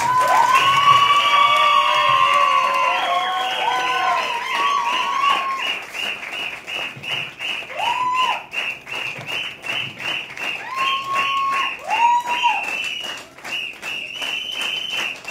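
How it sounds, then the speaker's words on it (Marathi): An audience at a Vasudev folk performance claps and cheers, with drawn-out high shouts and whoops at the start, then bursts of clapping and scattered calls that rise and fall. "टाळ्या वाजवा टाळ्या."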